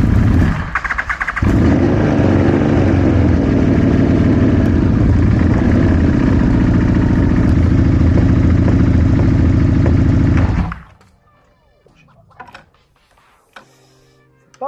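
A large motorcycle's engine runs loudly and close up for about ten seconds during a hydraulic clutch repair test, with steady rumbling and mechanical clatter. It then stops, leaving faint clicks and handling noises.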